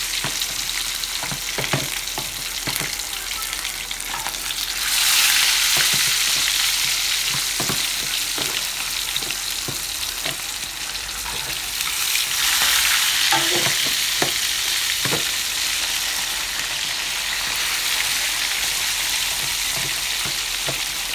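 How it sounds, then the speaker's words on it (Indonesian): Fish frying in a pan with hot oil, a continuous loud sizzle with occasional sharp pops and crackles throughout, heard alone with no talk. "Ini lanjut aku mau goreng ikannya."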